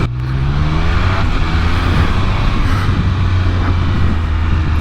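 A 2021 Triumph Speed Triple 1200 RS motorcycle rides along a twisty, bumpy country road, its triple engine droning loud and close with rising revs and heavy wind rush, with no talk.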